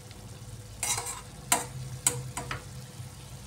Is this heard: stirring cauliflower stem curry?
yes